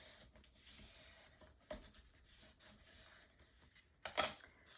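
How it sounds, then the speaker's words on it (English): A bone folder burnishes papercraft down in soft, steady rubbing strokes, close and quiet, with one sharper scrape near the end. "use your bone folder to burnish that down"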